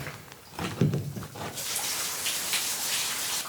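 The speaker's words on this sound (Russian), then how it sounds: "Там где-то впереди хорошо течет вода." Water running steadily somewhere ahead inside an abandoned mine tunnel in the mountains of Albania, a continuous hissing flow heard at a distance with a brief low thump early on.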